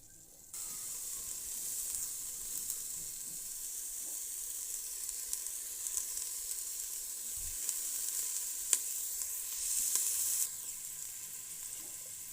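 Onions cooking in a pan give a faint, steady sizzle and hiss at some distance, with a brief soft knock partway through and no voices.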